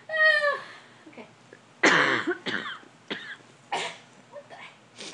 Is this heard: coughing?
yes